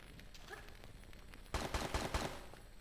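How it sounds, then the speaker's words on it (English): Burst of rapid gunfire in Tomb Raider III, several sharp shots in quick succession after a quieter stretch, loud and close over a steady game background. "I hear gunshots."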